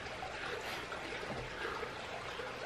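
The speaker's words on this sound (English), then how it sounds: "check out the creek." A creek flowing in Coorabakh National Park, a soft continuous trickling and rushing wash heard fairly faint and steady without pause.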